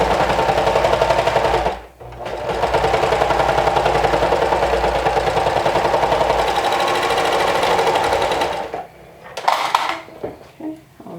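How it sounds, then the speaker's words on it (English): A serger stitches through several layers of stretch fabric in a loud, steady high-speed run that pauses briefly near two seconds, then stops near nine seconds, followed by a few handling clicks and rustles. "I'll be using my serger for this step"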